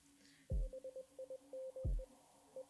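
Retro NES-style sound effects: two low thumping hits, each followed by a string of short electronic beeps in a quick uneven rhythm, played faintly and alone.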